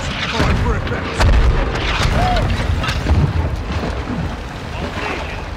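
Artillery strike explosions in Modern Warfare 2 Remastered thud repeatedly as deep booms with rumbling tails, loud and fairly close, with voices faintly mixed in.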